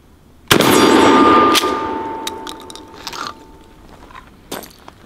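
A Mossberg 500 shotgun fires one sharp, loud blast at close range, followed by a ringing decay and some mechanical clicks and handling noises.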